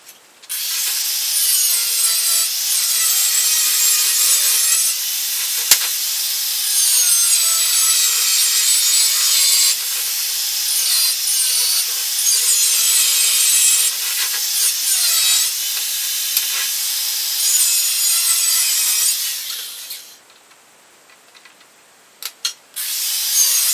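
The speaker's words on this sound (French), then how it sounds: "je vais faire des chanfreins dedans pour pouvoir bien remplir" An angle grinder cuts chamfers into steel parts for a V6 buggy ahead of welding, giving a loud, steady, high-pitched grinding whine for about twenty seconds that then stops, leaving a few short scrapes near the end.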